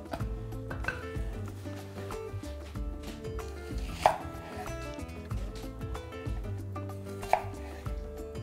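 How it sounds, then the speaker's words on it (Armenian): Onion being chopped finely on a cutting board, a quick, steady run of knife taps with two sharper, louder strikes along the way. "Սոխը կտրատում ենք մանր"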